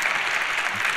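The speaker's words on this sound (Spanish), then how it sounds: "Un aplauso fuerte para Luz, para Carlos," Brief burst of dense audience applause for panelists at a youth talent event on the digital economy, steady and close, with no other sounds.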